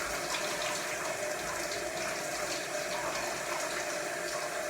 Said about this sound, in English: Now I wash my hair with really hot water, or as hot as I can stand it.